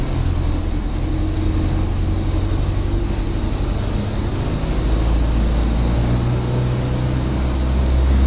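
A light aircraft engine in the FSX flight simulator game drones steadily and loudly as the throttle is slowly advanced, a low rumbling hum that builds slightly toward the end with no talk over it.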